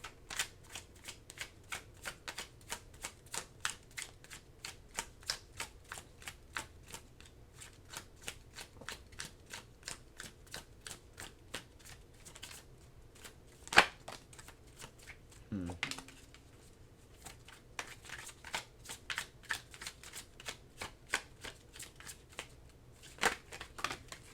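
Tarot cards are shuffled at close range in a long, steady run of crisp riffling flicks, with a brief pause and a couple of louder taps partway through and no speech.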